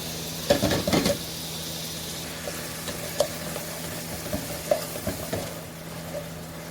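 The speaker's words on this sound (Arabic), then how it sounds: "هنا قطعت البصل اهو سايباها يتشوح بالسمنه" Chopped onion sautéing in ghee for an Egyptian kofta sauce gives a steady low sizzle, with a cluster of spoon-and-pan scrapes early on and scattered stirring knocks later. No one speaks.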